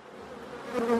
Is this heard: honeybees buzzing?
yes